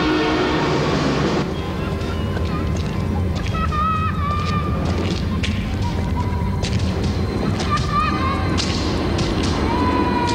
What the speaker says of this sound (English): They can't stop the trains.